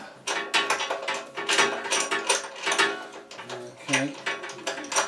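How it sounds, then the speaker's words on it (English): A hand ratchet clicks in quick repeated strokes while loosening the spark plug on a Honda GX160 small engine, close and loud, with short pauses between bursts. "So we'll just take the spark plug out"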